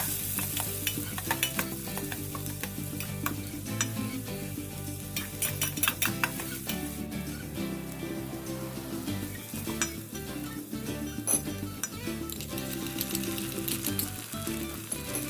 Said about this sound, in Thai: ใส่น้ำมันลงไปค่ะ น้ำมันพืชค่ะ ตามด้วยหอมสับ แล้วกระเทียมสับ เจียวให้หอมค่ะ